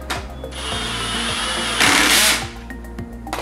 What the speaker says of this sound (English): just with your drill on the lowest setting